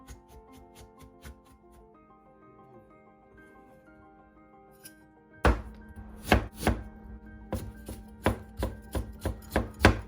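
A fish is chopped in two for a red curry sauce. After a stretch of quiet background music, about ten sharp, close knife strikes land on the board in an uneven rhythm.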